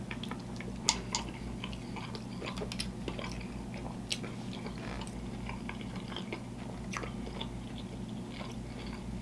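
Crunchy bites and steady chewing of food dunked in Wendy's ghost pepper ranch, close and quiet, with small crackly bursts over a low steady background hum.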